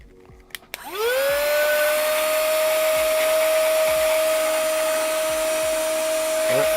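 A small handheld vacuum cleaner switches on after a brief quiet moment and runs with a steady high whine while cleaning up a mess, loud and close, with faint knocks underneath.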